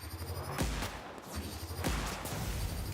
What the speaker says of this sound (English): let's try the new plasma rifle on these guys